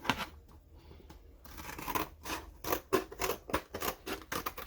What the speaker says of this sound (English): This is pretty easy to cut.